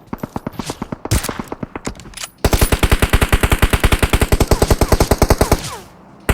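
PUBG Mobile gunfire: loud, rapid automatic bursts with evenly spaced shots, first a shorter run and then a long sustained stream that cuts off near the end.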